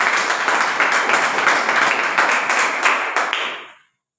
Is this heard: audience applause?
yes